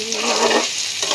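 Steady close sizzling of thin homemade chow mein stir-frying with chopped capsicum and onion, a continuous hiss with soft stirring movement.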